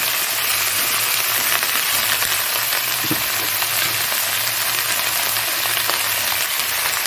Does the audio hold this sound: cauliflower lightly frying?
yes